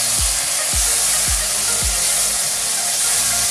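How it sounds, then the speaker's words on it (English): Lamb curry with red chili powder being stirred in a pan: a continuous loud sizzle with four evenly spaced low thumps from the spoon against the pan. "I'm gonna give it a good stir, everything, mix it properly."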